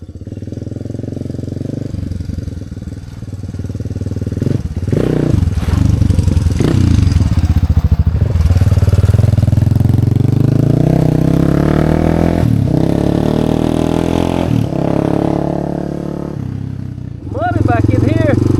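A Suzuki DR350 dual sport motorcycle engine runs steadily on a trail ride in North Carolina, loud and near with shifting revs and rattling clatter as someone talks over it.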